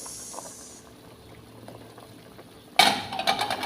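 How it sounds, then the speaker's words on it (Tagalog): Water boils vigorously in a pot for egg and onion-leaf soup, quiet at first, then a loud burst of bubbling and hissing steam that keeps churning unevenly to the end. "Wow, super kulo na"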